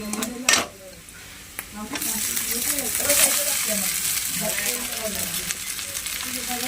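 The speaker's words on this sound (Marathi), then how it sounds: "सर्वप्रथम कांदा परतून घ्यायचा" Onion sautéing in a hot pan while Schezwan-style rice is prepared: a steady, close sizzle and frying hiss that runs throughout, with a few soft utensil clinks near the start.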